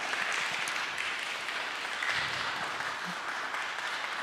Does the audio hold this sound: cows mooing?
no